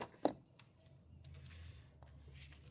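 Paper index cards being shuffled by hand, a quick riffle of soft flicks and slides near the microphone, with a low hum in the background and no talking.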